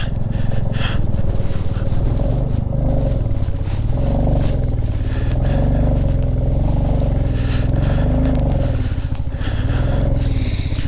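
A motorcycle labours in first gear up a rough, rocky mountain road in Spiti Valley, its engine loud and close with a steady throbbing drone that rises and falls continuously, no voices over it.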